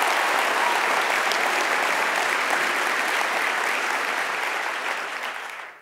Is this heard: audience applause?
yes